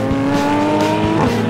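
A Porsche 991 GT3 RS is driven hard, its engine giving a loud, close, high-pitched wail that rises and then dips sharply at a gear change.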